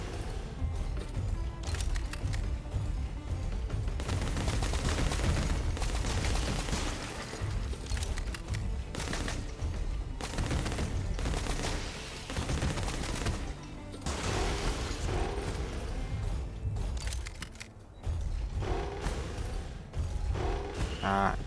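Gunfire in the shooter game Bounty Star, loud, near and almost continuous across the stretch, with cracks and impacts layered over dense game noise and only short gaps.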